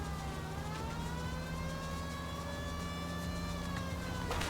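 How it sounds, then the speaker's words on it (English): Police car siren in the video game L.A. Noire, a faint, sustained wail gliding slowly upward in pitch over a steady engine hum. "The siren, Cole. Use it."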